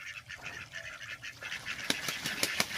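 Several sharp, honking goose calls ring out in quick succession, loud and close, over a low rumbling background.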